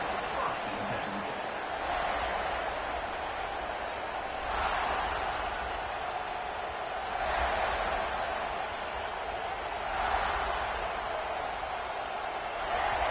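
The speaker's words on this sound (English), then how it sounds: "This crowd ready to make its presence known." A large football stadium crowd roars and cheers in sustained waves that swell and ebb every few seconds, while a commentator talks over the noise.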